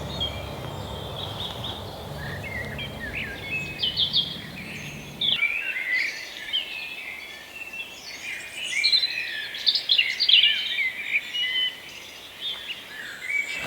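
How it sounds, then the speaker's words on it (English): Several birds sing in a dawn chorus near a bush and trees, among them the liquid warbling phrases of a robin. Bright chirps and trills come in bursts over a quiet background, and a low rumble drops away partway through. "There's a kind of liquidy robin call coming from in the bush or in the tree nearby."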